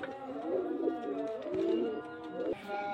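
Fancy flying pigeons, including red-bordered and biscuit-coloured birds, coo in low, rolling murmurs that continue steadily and fairly close throughout, mixed with other faint bird sounds.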